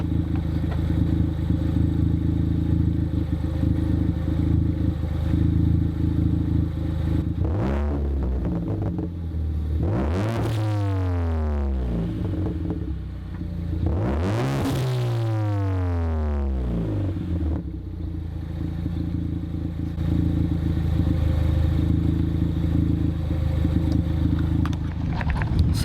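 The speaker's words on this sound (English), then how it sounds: "So yeah, guys, that is the sound of the new Cobb exhaust with the" A 2015 Ford Focus ST fitted with a Cobb exhaust and Cobb intake idles with a steady low rumble, then revs sharply twice. Each rev climbs and falls back to idle. The car is close and loud, and no one speaks.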